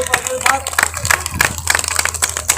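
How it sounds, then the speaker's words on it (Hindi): Sharp hand claps repeat in a quick, steady rhythm, like a crowd clapping together in time, at a human rights awareness campaign event. "मैं भी इनके लिए जोरदार ताली बजाता हूँ।"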